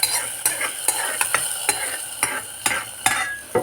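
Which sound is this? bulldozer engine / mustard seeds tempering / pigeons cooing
mustard seeds tempering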